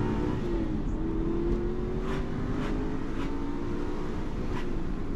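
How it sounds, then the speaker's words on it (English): An Aston Martin V8 Vantage engine hums at moderate revs, the steady drone rising slightly as the car accelerates, heard from inside the cabin at a fairly low level with no talking. "You cannot beat a bloody V8 engine."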